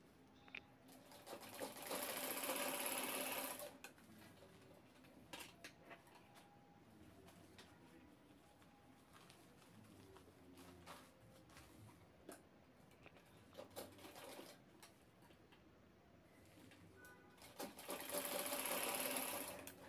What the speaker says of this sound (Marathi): आता हे कोपरे आपल्याला शिवून घ्यायचे आहेत